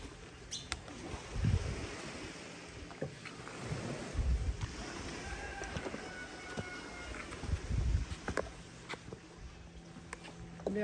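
Boat ride on the water near Livingston toward the Siete Altares waterfalls, a low rumble and water wash with intermittent thumps and splashes, steady and moderately loud, no speech.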